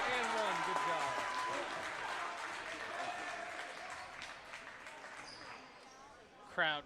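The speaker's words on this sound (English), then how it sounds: "Crowd getting into it on that one" A basketball crowd in a high school holiday tournament gym cheers and applauds after a score and foul, loud at first then tapering, with a commentator talking over it and a squeak near the end.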